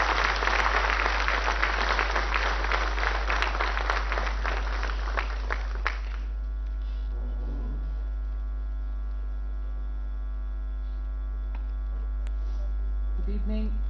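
Applause from a conference gathering in an auditorium welcoming the Indian finance minister, a dense wash of clapping for about six seconds that then stops, leaving a steady electrical hum and faint room noise.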